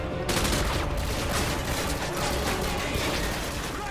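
Continuous heavy gunfire in Call of Duty Modern Warfare 2, a dense, unbroken barrage of shots and explosions at steady loudness throughout.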